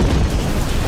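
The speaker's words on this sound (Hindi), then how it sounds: "अब चलो, ग्रेनेड लॉन्च करो।" A grenade explosion in an action movie: a dense, loud, roaring blast that fills the whole brief moment without letting up.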